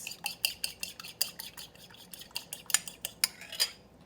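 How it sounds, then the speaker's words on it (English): An egg is whisked in a bowl with a fork or utensil, producing quick, bright clinking strokes against the bowl in an uneven rhythm, close and without speech. "So I'm going to give it a little mix."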